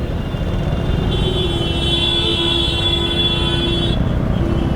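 Heavy road traffic at a busy main junction in Srinagar forms a loud, steady engine rumble with passing vehicles and a sustained horn-like tone partway through.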